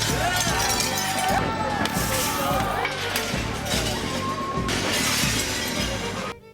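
Store windows being smashed during the 2010 G8 and G20 protests in Toronto: a loud, dense, continuous crowd din with repeated glass shattering and clinking, with shouting voices throughout.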